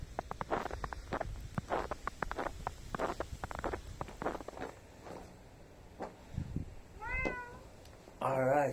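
A cat outdoors in falling snow gives a short meow near the end, after a stretch of crunching footsteps through snow.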